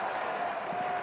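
College baseball crowd at a Baylor versus Oregon State game, a steady, moderately loud roar of cheering and clapping with no distinct individual voices, continuous throughout.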